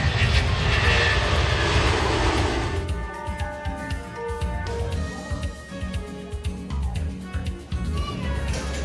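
Airplane engine drone inside the cabin on a flight to Seattle, a loud steady roar at first that settles into a lower hum, with faint voices and small clicks and knocks nearby.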